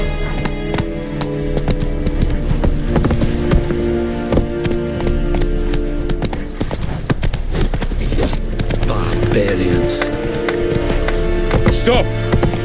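A horse gallops with rapid, rhythmic clip-clop hoofbeats in The Witcher 3, close and steady throughout, with jangling tack and game sounds layered over the hooves.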